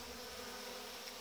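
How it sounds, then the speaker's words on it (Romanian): Large numbers of honeybees crowd a water feeder, giving a steady, close, continuous buzzing hum with no pauses and no voices. "Iată, o cantitate foarte mare de albine au venit la apă."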